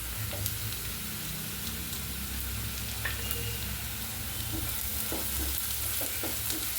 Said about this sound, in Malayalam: ഇതെല്ലാം കൂടി നന്നായിട്ട് വഴറ്റി കൊടുക്കാം.